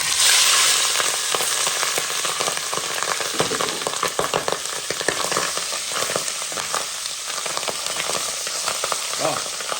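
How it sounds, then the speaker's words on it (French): Salted pork tail fries in hot oil with a loud, dense, continuous sizzle and crackle, close up, filling the whole stretch with steady popping spatter. "je fais frite la caisse salée. Fais revenir un peu la caisse salée."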